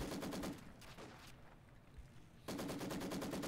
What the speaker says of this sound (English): Maxim machine gun does get forced off of the field, though, by another Grenadier squad